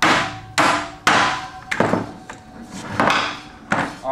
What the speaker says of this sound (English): Now you'll need your hammer, and this one won't be hard for me to take off either.